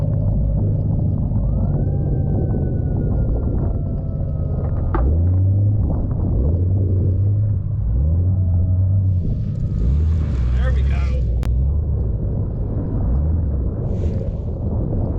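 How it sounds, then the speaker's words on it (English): A Jeep yanks a stuck vehicle out of a snow drift, engines rumbling low and heavy with repeated surging revs, broken by a few clanks and some brief scraping. "we were able to use that kinetic rope to pop this guy out of a little snow drift"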